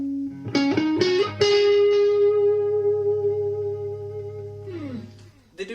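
A Gibson Flying V electric guitar with high-output Dirty Finger pickups plays a few picked notes, then a distorted note rings out with long sustain before sliding down and fading.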